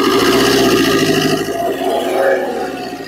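A car's engine is revved at a used car shop with its radiator shown, giving a loud, close rough roar that swells and eases over a few seconds.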